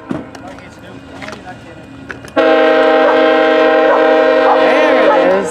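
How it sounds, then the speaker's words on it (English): A train passes close by, its horn sounding a loud, sustained multi-tone chord from midway on, beginning abruptly after quieter rail rumble and a dog's faint noises, then holding steady to the end. "Is a train coming"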